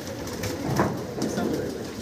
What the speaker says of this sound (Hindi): ये सारे कबूतर उड़े हुए हैं जी जितने भी हैं